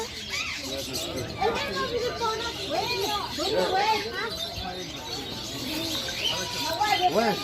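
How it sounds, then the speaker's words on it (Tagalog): A large flock of birds on a farm, many chirping and cooing at once in a dense, continuous chorus, close and lively, with people talking over it. "Daming ibon. Too much bird sa to."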